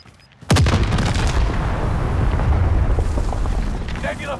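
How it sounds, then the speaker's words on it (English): A Nebula 5 bomb detonates in Call of Duty Warzone Pacific with a sudden, loud blast, then a long, heavy rumble that stays strong for several seconds before slowly thinning out. "Nebula 5 bomb has detonated in the area."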